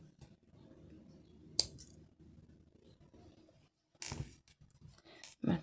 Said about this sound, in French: je coupe mon fil